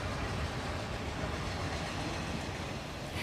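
A train rolls along the Gazprom railway across the tundra, a steady broadband rumble and rattle of wagons holding constant throughout, with no voices.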